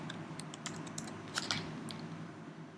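A comment is typed on a computer keyboard as a quick, quiet run of light keystrokes, with a small cluster of clicks near the middle and no voices.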